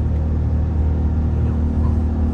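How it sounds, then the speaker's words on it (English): Supercharged engine of a 2023 Ram TRX truck, a steady loud low rumble and whir running continuously with no pauses, heard from close by. "Hear the supercharger on it?"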